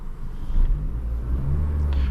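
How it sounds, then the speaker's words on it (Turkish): A 2005 Opel Astra G Classic with a 1.6 Ecotec engine idles quietly, a low, steady, muffled rumble that seems distant, heard alone with no talk. "Motor çok derinlerden, çok uzaktan çalışılmış gibi geliyor. Yani 2005 model bir arabaya göre motoru çok sessiz."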